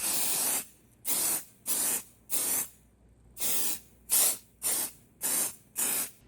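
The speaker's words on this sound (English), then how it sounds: "I'm going to spray my stencils with some pixie spray." Pixie spray adhesive sprayed onto craft stencils in nine short, even bursts of hissing aerosol, close and loud, with brief silent gaps and a longer pause midway.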